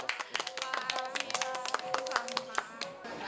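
A small group of people claps to close a session, the separate hand claps sharp and distinct in an uneven rhythm. Other people talk alongside the clapping.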